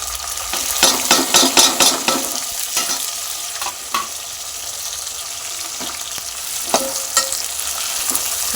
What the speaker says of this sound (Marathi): टमाटा याच्यामध्ये थोडासा फ्राय करून घ्यायचा आहे.